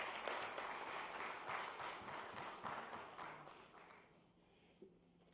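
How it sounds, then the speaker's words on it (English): Audience applause welcoming the keynote speaker, the Managing Director of IBM India and South Asia, at a government event in Gandhinagar with the Chief Minister present; steady dense clapping that fades toward the end, with a single tap near the close. "Please welcome sir with a round of applause"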